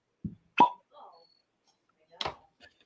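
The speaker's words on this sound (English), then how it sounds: "Ready for the cork pop?" A real wooden cork is pulled from a bottle of Four Roses bourbon, giving a close, hollow pop followed by brief faint rattles, while a voice speaks briefly around it.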